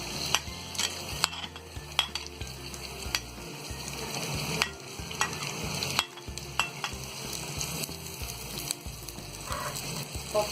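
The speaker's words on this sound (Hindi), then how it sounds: "और प्याज को हम हल्का गुलाबी होने तक फ्राई कर लेंगे" Onions sizzle and fry in a little hot oil in a kadai, a steady close crackle with repeated spoon scrapes and stirring clinks against the pan, and no one talking.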